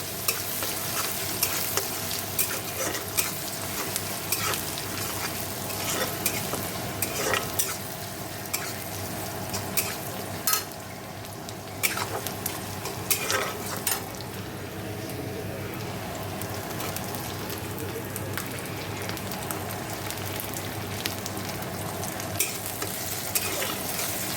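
Food sizzles steadily while frying in a home kitchen, with repeated scraping stirs of a spatula against the pan throughout.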